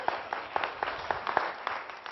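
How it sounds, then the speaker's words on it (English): Scattered applause from a small audience at a talk about LinkedIn, with a modest, uneven run of claps that stays fairly quiet throughout. "Everybody give Maria a round of applause."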